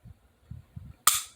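A single sharp, crisp click from the upgraded trigger of an SD40VE pistol breaking, close and loud, preceded by a few faint low handling bumps.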